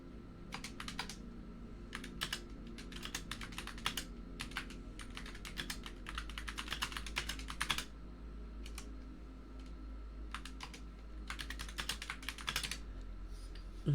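Fingers type rapidly on a computer keyboard in close, crisp bursts of clicking and clacking, pausing briefly between runs over a low steady hum, with no talk.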